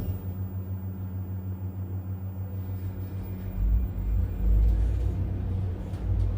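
A Tresa/MasterLifts machine-room-less traction lift at an antiques centre in Camp Hill, Queensland, runs roughly on its way down, a steady low hum and motor drone swelling into heavier rumbling bumps partway through.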